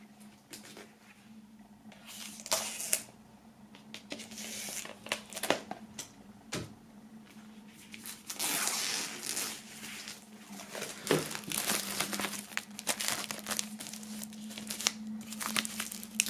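Plastic shrink wrap peeled off a dark grey vinyl record edition: close, intermittent crinkling and tearing crackles in irregular bursts, growing busier toward the end.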